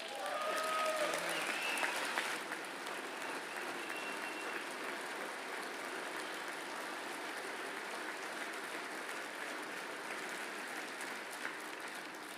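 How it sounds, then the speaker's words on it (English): Sustained applause from the audience at a presidential State of the Union address in the House chamber, heard as a steady, even patter of clapping that continues for the whole stretch. "I wasn't sure if anybody, even on this side, was going to applaud for that."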